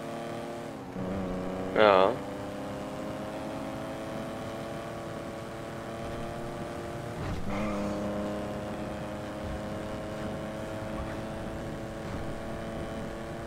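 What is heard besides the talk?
car engine driving in GTA Online video game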